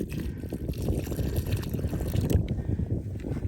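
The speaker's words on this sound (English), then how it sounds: "I'm going to pour this water in," Water poured down into a hole dug around a grounding rod, a steady low gurgling trickle running continuously for a few seconds.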